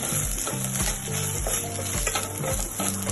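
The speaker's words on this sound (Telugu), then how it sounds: "అల్లం పచ్చివాసన పోయేలాగా ఫ్రై చేసుకోవాలి." Ginger paste fries with browned onions in a pan, giving a steady close sizzle broken by the repeated scrape and clink of a spoon stirring against the metal, without talk.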